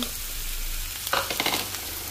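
Chicken filling frying in a pan for puff pastry patties, stirred and mixed with a utensil, giving a steady low sizzle with a brief burst of scraping and clattering strokes near the end.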